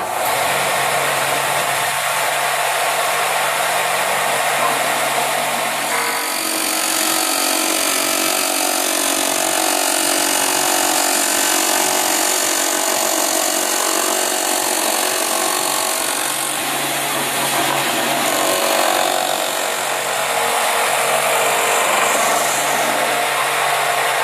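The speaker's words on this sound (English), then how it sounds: "I'm going to go ahead and use the table sander to go right to the line I had initially made on the outside ring" A table sander grinds steadily and loudly for about twenty-four seconds as a wooden telescope UTA ring is sanded round to a marked line, with a continuous high whine and slight shifts in pitch as the wood is worked.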